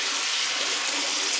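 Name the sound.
water running in the sink while washing dishes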